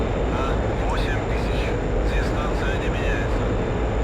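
A jet in DCS World taxis toward the runway with a steady, loud engine roar and whine that holds constant throughout, under a faint voice murmuring over the radio.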